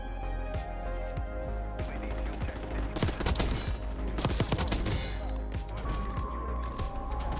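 Submachine gun fire in the video game Black Ops 6, rapid sustained bursts over a constant game ambience, with the heaviest firing in the middle.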